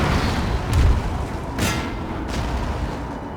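Cannon fire in the strategy game Napoleon: Total War, a few deep booms rolling out over a continuous battlefield rumble, the heaviest blast near the start and softer reports following.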